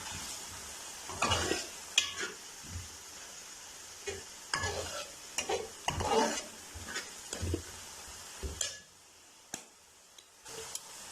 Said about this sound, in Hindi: बहुत अच्छी तरह भुन चुका है हमारा मसाला।